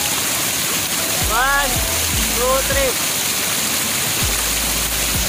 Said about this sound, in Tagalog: Nakikita nyo naman yung talon